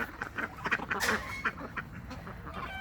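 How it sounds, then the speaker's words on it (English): Quiet, agitated quacking and squabbling from two duck hens fighting, several rapid harsh calls and splashy scuffling sounds close by. "that was actually a hen fight. Not a drake fight."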